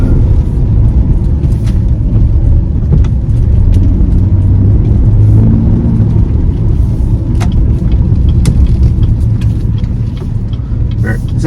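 A 2023 Chevy Traverse RS driving on the road, heard from inside as a steady loud low rumble of engine and tire noise with occasional faint clicks, continuous throughout.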